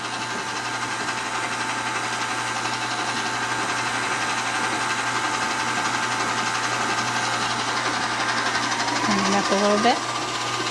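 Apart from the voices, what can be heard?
KitchenAid stand mixer mixing cake batter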